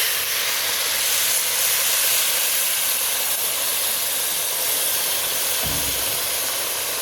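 Water poured over a hot rice and lentil koshari mixture in a pot sets off a loud, continuous steamy hiss that holds steady for several seconds before easing slightly, with no talking.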